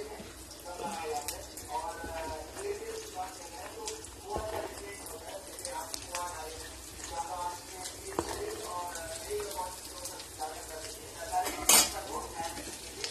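A spoon scrapes and clinks steadily against a pan while garlic, onions, sweet corn and carrots are stirred together, producing irregular close metallic taps and scrapes over a soft background hiss.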